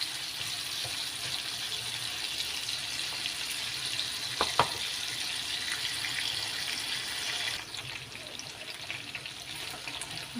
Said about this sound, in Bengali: দুই মিনিটের মতো এটা আমি ভেজে নিব।